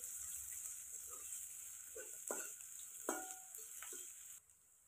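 Onion tempering sizzles in a pan over a wood-fired village stove, a faint steady hiss with a few soft stirring scrapes and clinks.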